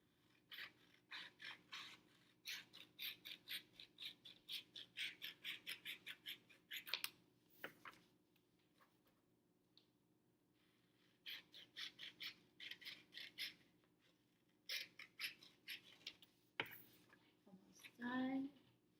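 Scissors snip through paper pieces for an interactive notebook in quick rhythmic runs of crisp close cuts, pausing between shapes before resuming, with a faint scrape near the end.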